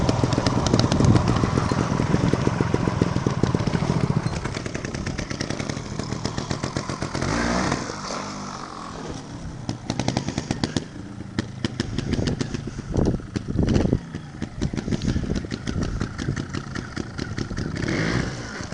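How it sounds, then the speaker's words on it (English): A motorcycle engine (Ghost XL) revs hard and continuously at close range, with a raspy, buzzing roar. It dips briefly midway, then climbs and surges again. "You gotta really just push the wheel in and keep the rev up."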